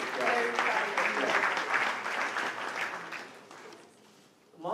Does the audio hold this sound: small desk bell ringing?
no